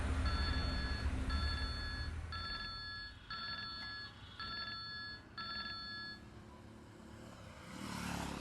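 A telephone rings in a repeated pattern of six short, bright double-trill bursts at a steady rhythm over low background hum, with no talking.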